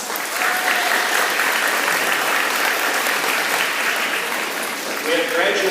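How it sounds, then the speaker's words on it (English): Sustained applause from a large crowd in a school gym at an awards ceremony, steady and loud throughout, with a bit of cheering mixed into the clapping. "let's give everyone one more round of applause"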